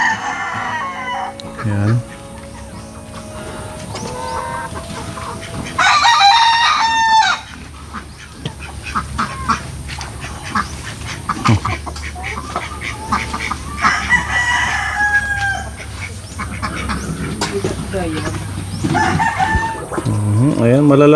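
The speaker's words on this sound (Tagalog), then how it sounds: "May pato, may mga manok." Chickens and roosters on a farm that also keeps ducks and pigs cluck and crow repeatedly, some calls close and loud, while people talk at times.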